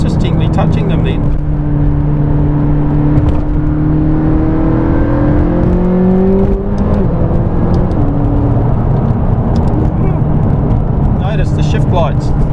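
McLaren 570S engine rising in pitch through the gears on a track, with a sustained loud drone climbing and dropping at shifts, heard from inside under cabin noise.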